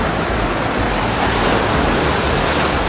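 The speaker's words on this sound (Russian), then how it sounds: "Шторм не сильный, но волны такие красивые-красивые." Stormy winter sea waves at Sudak, Crimea, surge and break in a continuous loud roar of surf, close by and unbroken, with no speech.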